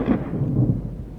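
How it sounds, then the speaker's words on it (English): Heavy naval gunfire from battleships with 17.6-inch guns in the warship game Ultimate Admiral Dreadnoughts: a deep, continuous low rumble of booming shots that rolls on, loud and without a break. "Battleships are firing at 30 kilometers."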